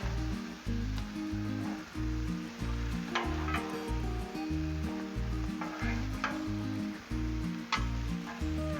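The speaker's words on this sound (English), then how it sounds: "Let's get these taters over here good flipping." Potatoes sizzle steadily on a Blackstone griddle as they are flipped, with a few brief scrapes. The frying is nearly continuous across the clip, with loud, low music playing beneath it.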